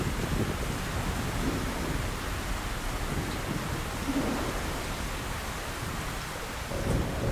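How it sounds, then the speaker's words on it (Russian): Heavy rain in the video game Metro: Last Light, a constant loud wash of downpour with deep rumbling underneath, steady for the whole stretch with no talk. "Дождь идет."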